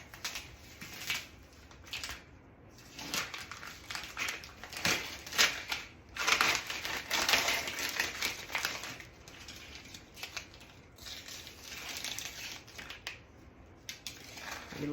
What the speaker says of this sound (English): remove our tape.